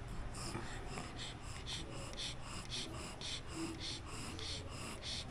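A pug dog pants close by, rapid rhythmic wheezing breaths repeating steadily with snorting rasps over a faint background hum.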